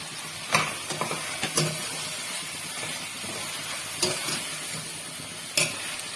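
Steady sizzling of chopped tomato added to chicken frying in a hot pan, with a few sharp scrapes of stirring, close by, no talking.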